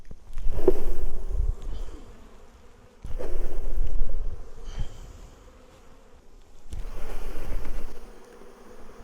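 Honey bees are shaken off brood frames into a container or hive lid, making three separate bursts of thumping and rustling, each followed by a low buzzing hum that fades before the next shake.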